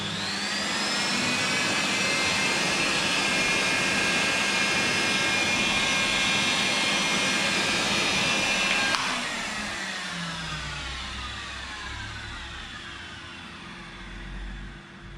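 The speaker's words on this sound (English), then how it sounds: "just to warm them up a little bit in the blow dryer." A blow dryer runs loudly at close range while metal hemostats are warmed in its airflow during a dog grooming session, giving a steady whooshing whine that drops and softens partway through and carries on alone.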